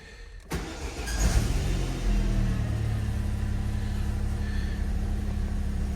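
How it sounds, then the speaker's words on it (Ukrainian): An Opel Zafira B with a starting fault cranks and fires up after a brief click, then settles into a steady, close low idle rumble. "Машина заводиться, є чек."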